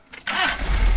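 A car engine starts up close by with a short crank, then settles into a loud, steady running rumble.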